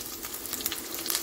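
Curry leaves and chana dal frying in hot oil, a bright continuous sizzle with crackling pops, close and fairly quiet, no voices.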